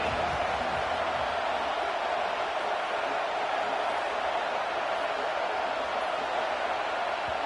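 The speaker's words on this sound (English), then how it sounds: "The roar of the crowd trying to fuel this defense to keep them pinned in their own end." Steady, dense stadium crowd roar from a College Football 26 game between Clemson and LSU, a continuous broadband wash holding even loudness throughout with no distinct voices standing out.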